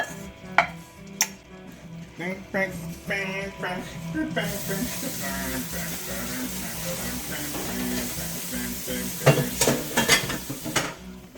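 Pasta added to a hot pan and stirred, a steady sizzle and hiss with scraping and clattering of utensils against the pan, under a voice and background music.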